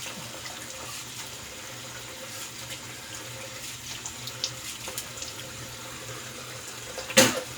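Cold tap water runs steadily into a bathroom sink during a wet shave, a low continuous flow that ends in a brief louder splash near the finish.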